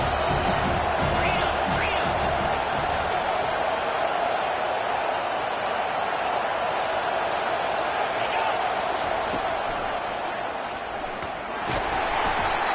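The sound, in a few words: stadium crowd cheering in video game NCAA 25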